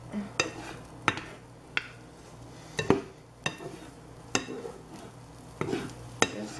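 Kool-Aid-dyed eggs cook in a pan as a utensil repeatedly taps and scrapes the metal in irregular sharp knocks, with light sizzling and stirring in between; no one speaks.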